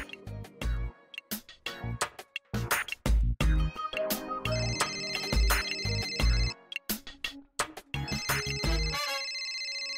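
A mobile phone ringtone rings in a bright, melodic electronic pattern of repeating beeping tones and punchy beats, loud and close, with no talking.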